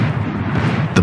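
Heavy gunfire in Max Payne 3 rumbles through a dense, booming wash of shots, ending in one sharper, louder crack, loud and continuous.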